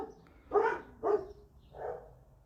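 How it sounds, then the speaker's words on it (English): Dogs barking at a mail carrier outside: three barks, two close together then a softer third after a short pause, somewhat muffled as if heard from indoors. "I think the mailman's outside."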